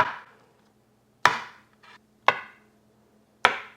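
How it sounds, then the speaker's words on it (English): A knife slices boiled eggs in half on a cutting board, three sharp, close chops at an even pace, each followed by a short ringing decay. "And now you just cut them in half."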